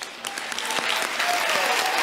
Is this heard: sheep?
no